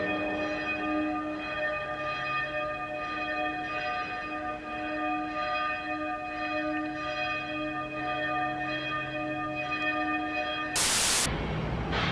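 Bells ring in the tower of St. Domnius Cathedral in Split, Croatia, sustained overlapping tones humming steadily and resonating throughout, with a short burst of wind or handling noise near the end.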